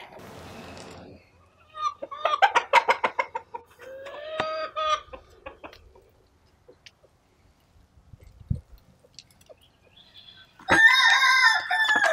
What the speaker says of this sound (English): Sorry about the chickens. They're being loud and laying an egg.